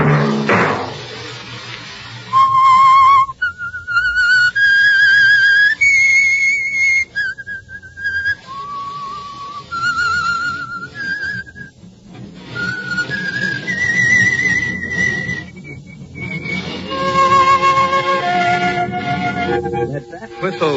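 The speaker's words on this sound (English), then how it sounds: "Let that whistle be your signal for the Signal Oil program, The Whistler" Someone whistles the signal theme of The Whistler old-time radio program, a haunting, wavering melody of sliding notes that rises and falls with short pauses, with faint knocks and a low background hum.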